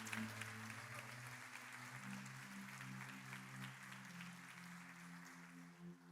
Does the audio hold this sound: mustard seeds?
no